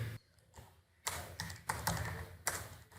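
Keys tapped on a computer keyboard while C++ code for a remainder and even/odd program is entered, with a quiet pause followed by several bursts of clustered keystrokes, close and fairly soft.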